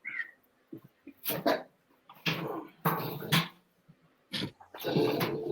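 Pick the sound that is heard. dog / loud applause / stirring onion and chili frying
dog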